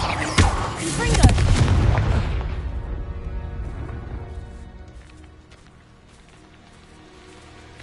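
A Confringo blasting spell explodes in the Hogwarts Legacy video game: a sharp crack and a heavy booming blast with rumbling debris that slowly fades to a quiet tail.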